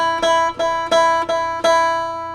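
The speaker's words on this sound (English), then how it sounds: "So on the guitar it would sound like this open." Guitar in standard E tuning strummed open, several bright ringing strums at a steady pace with sustained strings between, close and clear, no talking.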